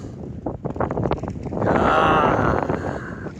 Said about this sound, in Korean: 바람이 아주 세게 불어와요. 이 녹음 상태로 바람 소리가 들어갈 것 같습니다